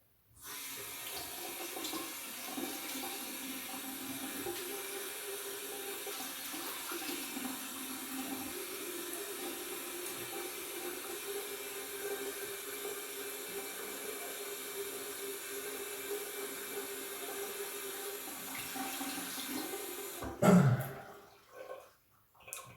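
A bathroom tap runs steadily for about twenty seconds as a face is rinsed with water after a wet shave, a close, even hiss of flowing water that ends with a few splashes and a brief clatter.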